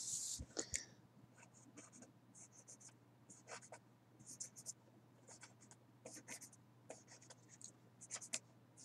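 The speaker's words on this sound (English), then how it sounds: "now I'm gonna color it in very lightly" Light pencil strokes scratch softly across paper while a drawing is lightly coloured in, coming as short repeated bursts close by, with a faint voice murmuring now and then.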